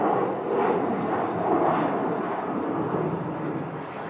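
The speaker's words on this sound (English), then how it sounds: "These 737s from American always use a lot of runway when they take off." American Airlines Boeing 737 taking off at Phoenix Sky Harbor airport, a broad, steady jet roar heard from a distance, rumbling evenly without any voices.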